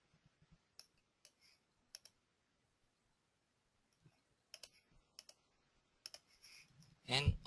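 Mouse buttons clicking in structural steel design software, a series of sharp isolated clicks spaced irregularly with quiet gaps between, ending in a louder burst of rustling handling noise.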